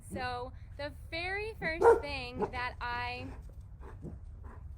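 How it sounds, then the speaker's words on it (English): Dogs bark and yip in short bursts near the start, while a person talks over them and keeps speaking afterward. "excuse the dogs"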